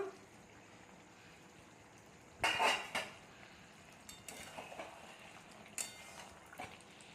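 A lid lifted off a pan of chilli fish with a clear metallic clank, followed by a few lighter knocks and clinks of utensil against cookware over a quiet sizzle.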